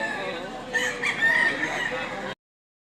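A gamecock crows loudly and close at a fighting-rooster sale in Lipa, Batangas, one drawn-out crow rising over a background of murmured voices before the sound cuts off.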